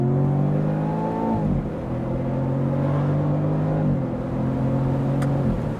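A Jaguar F-Type accelerates hard from about 20 to 90, its engine note climbing loudly through the gears with a brief dip at each upshift, heard from inside the car.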